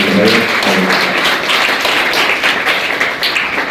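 An audience at a memorial elocution competition event in Nashik claps loudly and continuously, a close, dense spread of many hands with a few sharper taps poking through, and no speech over it.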